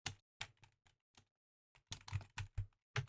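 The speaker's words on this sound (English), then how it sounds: "So I could start typing in the sales for Germany." Someone types sales figures for Germany into a Power BI report on a computer keyboard. Close, crisp keystroke clicks come in short irregular bursts separated by brief pauses, with no talking.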